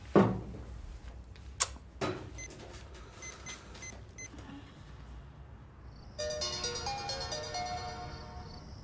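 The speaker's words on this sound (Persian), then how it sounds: "تلفن ترانه است" A telephone in a household scene from a Persian sitcom starts ringing partway through with a steady electronic tone. Faint room noises and a few knocks come before it.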